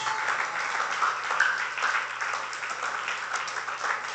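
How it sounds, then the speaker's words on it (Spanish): A church congregation at a Spanish-language worship service gives God an offering of applause: continuous, full clapping that stays strong and even from start to finish. "Le damos una ofrenda de aplauso a Dios."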